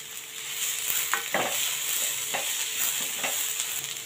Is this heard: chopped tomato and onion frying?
yes